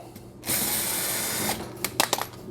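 A power driver with a ratcheting whir backs out the last screws on an Allavino wine fridge. A sustained close buzz is followed by a few quick clicking bursts.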